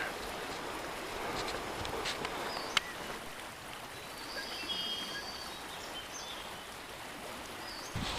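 Sweetwater Creek flowing through a gorge along the Rim Lake Trail in the Flat Tops, a steady broadband rush of water heard from a distance, with faint bird calls above and no talking.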